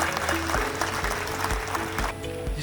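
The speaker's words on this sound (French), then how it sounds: "Sous vos applaudissements, s'il vous plaît" Crowd applause in a hall at a shopping mall inauguration ceremony, a dense steady wash of clapping lasting throughout, with faint music or tones underneath and a few low thumps.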